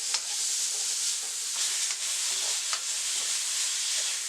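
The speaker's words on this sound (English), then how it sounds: "For 2 minutes on high heat" Beef stir-frying for fried rice in a pan on high heat: a steady broadband sizzle with soft scraping stirs and occasional brief clatters, close and continuous, with no talking.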